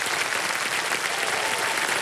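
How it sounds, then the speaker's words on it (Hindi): A studio audience on the KBC quiz show breaks into sustained, dense applause, an even wash of clapping from a large crowd with no talk. "एक बार जोरदार तालियां बज जाए उनके लिए।"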